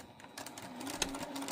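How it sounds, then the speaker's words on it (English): A sewing machine stitches along the line of a foundation paper-pieced quilt block made from fabric scraps. It gives a brief, steady, fairly quiet run of stitching with no talk. "So line up your needle, back stitch a little bit, and just sew right on that line."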